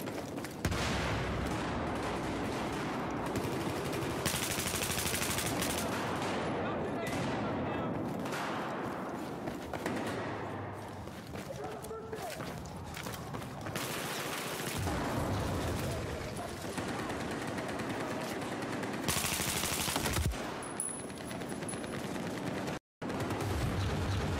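Sustained automatic weapon fire from the Battlefield 4 game, with the AWS rifle on the Operation Locker map: dense bursts rattling almost continuously for over twenty seconds, loud and close, with a few louder blasts and a brief drop near the end.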